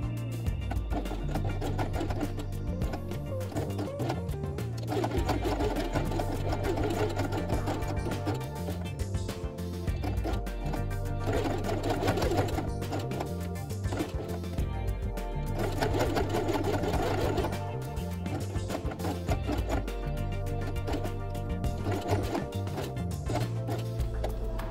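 A sewing machine runs through layers of felt with brown thread, a loud, continuous motor hum and rapid stitching pulse that swells in repeated bursts along an edge.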